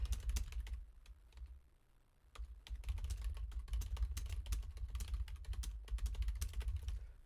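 Rapid, uneven typing on a computer keyboard, close and fairly quiet, with clustered clicks and a brief slowdown near the middle before steady keystrokes resume.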